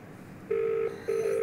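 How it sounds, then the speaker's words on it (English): A mobile phone's ringback tone sounds on an outgoing call: two sustained, steady electronic tone bursts separated by a short pause, clear and fairly loud, with no talking. "Now it is ringing."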